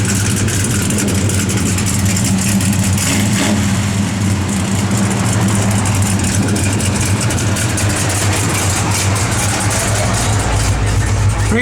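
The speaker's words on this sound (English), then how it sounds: "Well, that motor sounds good," A 1966 Chevrolet El Camino's engine runs steadily, a loud, close, low rumbling idle with a lopey cam throb and slight revving swells, alone without talk.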